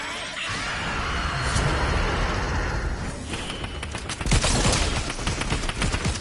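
Steady rapid video game gunfire crackles continuously, growing sharper and louder with dense shots in the second half.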